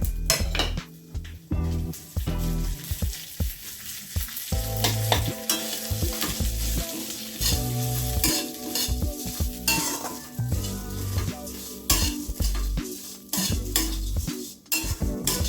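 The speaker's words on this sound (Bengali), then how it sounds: "এখন আমি এটাকে একসাথে চিড়ের সাথে ভেজে নেব ভালো করে" Poha fried in a pan with chopped ginger and green chili, loud scraping and clinking of a spoon against the pan over a continuous sizzle, rhythmic stirring strokes throughout.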